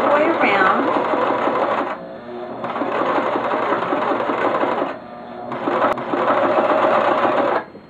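Sewing machine stitching around a fabric passport cover, running in three long steady bursts with brief pauses between them, close and fairly loud.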